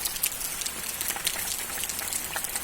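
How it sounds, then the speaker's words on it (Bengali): Heavy rain falls outdoors in Kumarghat, Unakoti, Tripura, a constant bright patter of drops hitting leaves and surfaces nearby, with no talking. "অনেক বৃষ্টি।"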